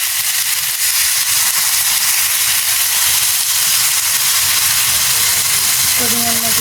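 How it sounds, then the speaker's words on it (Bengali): Water poured into a hot frying pan with tomato masala erupts into a loud, sustained hissing sizzle and rush of steam that carries on for several seconds, with a voice starting just at the end. "এবার দিয়ে দেবো জল,"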